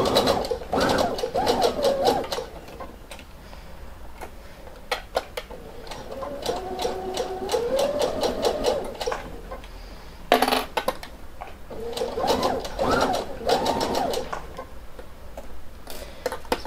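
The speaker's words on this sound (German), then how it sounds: "Denn das sind ja einfach nur gerade Nähte." A sewing machine stitches straight seams of piping onto a cushion, running in bursts of fast, even mechanical ticking and whirring, close up, with pauses and small clicks between runs and no talking.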